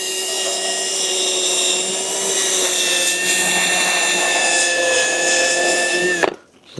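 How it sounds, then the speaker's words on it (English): A cordless power drill fitted with a scrub brush whines steadily while scrubbing a rosewood Eames chair, a loud, even motor tone with a slight scraping texture that runs for about six seconds and then stops abruptly. "That's the beauty of having one of these electric, power cordless drills."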